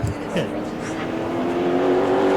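A Pro Late Model race car running on track during qualifying at New Smyrna, its engine a steady, building drone that grows slightly louder toward the end, with a commentator talking over it.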